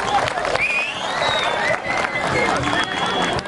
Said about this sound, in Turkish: Biraz daha güçlü alkış olsun.